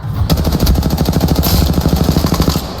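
Rapid automatic gunfire from a Halo video game weapon, a steady stream of sharp, evenly spaced shots rattling loud and close for several seconds without pause.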